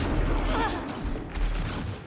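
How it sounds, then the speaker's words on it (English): Rapid bursts of gunfire hit the player in a space exploration video game, a fairly quiet, continuous rattle that eases briefly and then picks up again. "What is shooting me?"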